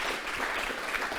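Audience at a conference panel claps steadily for a short moment, a dense, even wash of applause with no talking over it.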